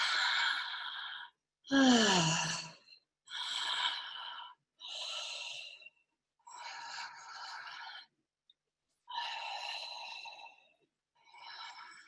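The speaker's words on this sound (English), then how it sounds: "you're just going to breathe in and out of the mouth with no pause" Slow breaths in and out through the mouth in a guided breathing exercise, about eight airy breaths, close and fairly soft, separated by short gaps, with one deeper voiced sigh early on.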